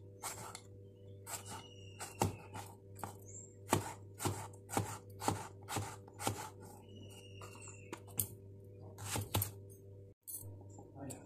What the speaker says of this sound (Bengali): টমেটোটা আমি পেঁয়াজের মতনই কেটে নিচ্ছি